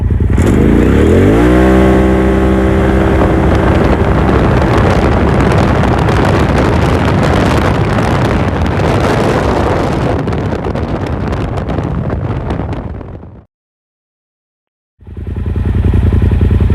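A loud 2021 Polaris RZR XP Turbo side-by-side with aftermarket Trinity exhaust revs up through rising gears in two-wheel drive, roaring steadily with wind buffeting, then drops out abruptly before roaring back.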